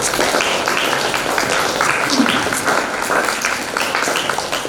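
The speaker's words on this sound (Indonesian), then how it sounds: "tepuk tangan untuk anak" At a school's Quran recitation program opening, an audience claps for the children in a steady, fairly loud burst of mixed hand claps with some voices faintly underneath.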